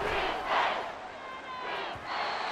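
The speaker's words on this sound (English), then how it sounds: "This crowd turning up the decibel level." Stadium crowd in Madden NFL 24 roaring loudly through an American football game between Miami and another team, a sustained wash of cheering that swells in waves, with no clear talk on top.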